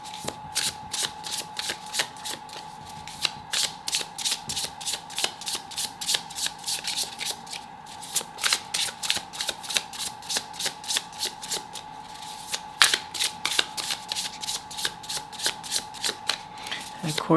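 Tarot cards are shuffled by hand in rapid, continuous bursts of crisp riffling and flicking, close and clear, over a steady background hum.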